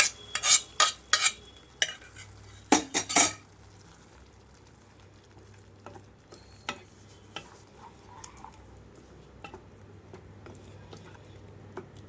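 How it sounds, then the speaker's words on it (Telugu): Cooked lentils being added and stirred into a pan of fenugreek leaves and tomato: a few loud spoon clacks and scrapes against the pot early on, then quieter occasional taps over a soft background hum. "ఉడికించిన పప్పును ఇందులోకి వేస్తున్నాను"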